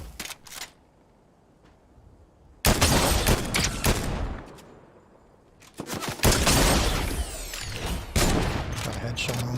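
Fortnite gunfire comes in several loud rapid bursts: a short volley, a longer stretch of shots, then a sustained barrage of cracking rounds, separated by quieter gaps.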